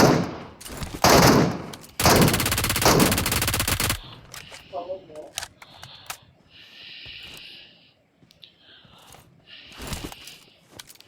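Rapid AKM rifle spray in the BGMI battle royale game: loud bursts of automatic fire in the first four seconds, then quieter scattered shots and game sounds, with players' voices audible briefly.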